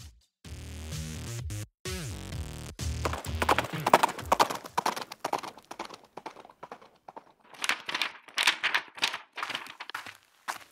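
Horse hooves clip-clop in a steady, brisk rhythm, fairly close, after a few seconds of electronic tones and clicks.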